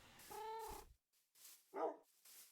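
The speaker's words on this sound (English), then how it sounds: "I'm going to take these cats, put them over here with the dogs." Dogs in the Minecraft game bark in a few short, quiet yips and whimpers, with a longer tonal whine at first and a brief bark later.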